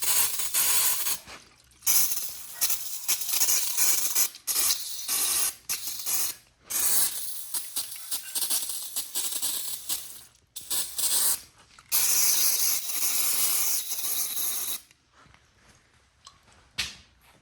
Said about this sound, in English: Just gonna hose this down with some brake clean